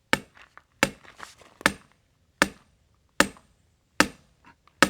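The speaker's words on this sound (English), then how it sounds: "Now, switch over to the sledgehammer." Sledgehammer blows drive a solar grounding rod into solid ground, landing as seven sharp, loud metallic strikes spaced a little under a second apart, each ringing briefly before the next swing.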